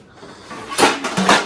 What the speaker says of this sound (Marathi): ह्याच्यावरती मी भांडी मांडणार आहे चालू करू भांडी मांडायला